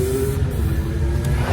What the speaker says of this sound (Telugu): ఈ బైక్ల సౌండ్ ఏందో కానీ డిస్టర్బెన్స్.